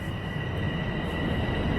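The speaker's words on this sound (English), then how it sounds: "I just got off the subway here at Yorkdale Station." A Toronto subway Line 1 train at Yorkdale Station gives a steady low rumble with a faint high whine above it, a continuous rolling roar with no voices.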